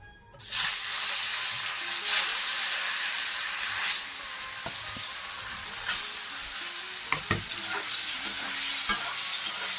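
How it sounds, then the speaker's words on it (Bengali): Paneer pieces hitting hot mustard oil in a kadai on a gas stove, bursting into a loud, steady broadband sizzle that holds throughout with occasional scraping stirs. "তেলটা গরম হয়ে গেছে, এখন পনিরগুলি দিয়ে দিচ্ছি"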